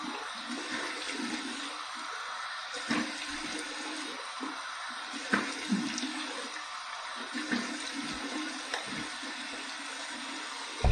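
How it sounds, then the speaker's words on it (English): Cold water runs steadily from a bathroom tap to rinse an aluminum razor, a continuous rushing splash with brief clinks and knocks against the sink, close and moderately loud. "Flipping it to the cold water side. There's the cold water rinse."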